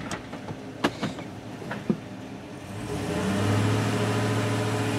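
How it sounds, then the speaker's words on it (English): A 2019 Chevrolet Silverado with an 8L90 transmission being power braked, with a few sharp knocks and clicks before the engine rises into a steady, louder drone that holds through the end, close by and free of talk. "We're going to just do a little power braking and get it."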